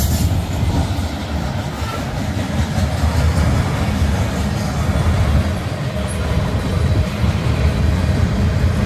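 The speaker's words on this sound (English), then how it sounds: "So we got a Bessemer Lake Erie locomotive and a Maine Northern." A CN freight train with a Bessemer and Lake Erie locomotive rolls past at night near Halton, a steady loud rumble of wheels and cars continuing without a break and no voices.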